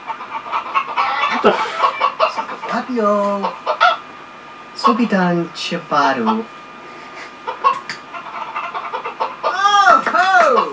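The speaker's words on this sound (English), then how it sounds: "But ask if a chicken squawking alone in the forest makes any sound." Chickens in The Sims 3 squawk and cluck in repeated bursts through the clip, mixed with someone talking over them.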